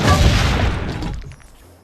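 Cannon fire in Assassin's Creed Brotherhood, a single loud, deep boom that rolls out and fades over about a second, heard alone with no voices.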